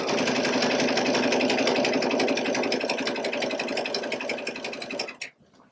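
A Baby Lock sewing machine fitted with a fringe/looping foot runs in a steady, rapid, close-up whir of continuous stitching, stopping abruptly near the end.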